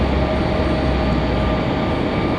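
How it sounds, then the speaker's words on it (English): A Frontier Airlines A321 arriving at Raleigh-Durham airport from Dallas roars steadily overhead, a loud continuous jet rumble with no pauses. "Frontier 3330 coming in from Dallas."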